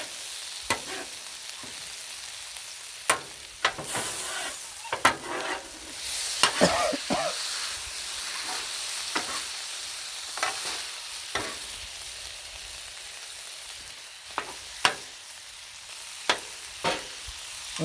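Chili stirred on a Blackstone griddle outdoors, a low sizzle broken by repeated sharp spatula scrapes and taps against the flat top, close and irregular, with no talking.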